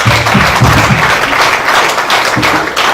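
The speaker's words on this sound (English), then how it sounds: "Another round of applause" An audience at an ICAN presidential courtesy event bursts into applause, a loud, continuous wash of clapping filling the whole moment without speech.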